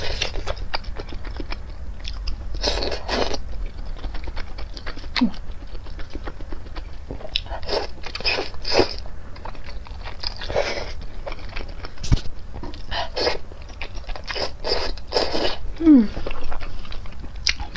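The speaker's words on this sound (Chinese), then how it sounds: "我们今天来吃冒牌货家的冒菜" Maocai being eaten, with repeated bites and chewing of food in close, crunchy bursts spread through the clip alongside soft mouth noises.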